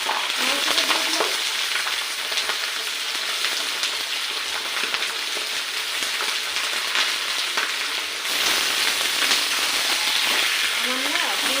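Chicken pieces for curry frying in a hot pan, a loud, steady, dense sizzle with crackle that keeps going the whole time and swells slightly in the final few seconds, with no talking over it.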